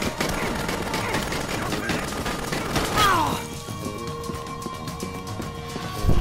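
Rapid bursts of gunfire from the video game Dead Rising rattle loudly for about three seconds with crashing impacts, then fade to quieter background sounds with a faint tone.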